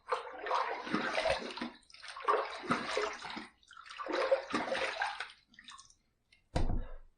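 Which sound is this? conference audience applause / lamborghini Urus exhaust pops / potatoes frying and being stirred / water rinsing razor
water rinsing razor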